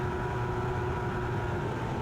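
A GTU-class race car in a racing video game at Daytona runs at full throttle, with a steady, loud, unbroken engine drone and a constant tone held throughout.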